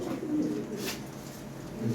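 Bombay pigeons give low, continuous cooing close by, a soft rolling murmur lasting the whole moment with no voices over it.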